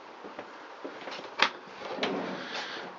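A soft-close kitchen drawer in a 2015 Adria Altea 552 DT Tamar caravan glides shut, with a muffled thud and a second soft knock moments later, close and quiet in a still interior.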